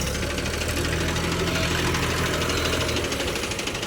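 A tractor engine runs steadily with a low, knocking idle rumble, close and continuous throughout.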